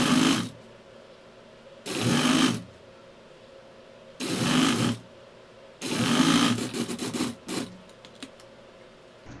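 A sewing machine stitches a folded fabric border on a chikankari kurti in four separate short bursts, loud and close, with quiet pauses between them.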